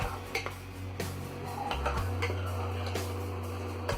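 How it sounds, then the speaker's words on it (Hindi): Sweet daliya cooked with jaggery and milk is stirred in a pot, with soft spoon clinks and scrapes against the pot over a steady low background hum. "अब इसको मिक्स कर देंगे"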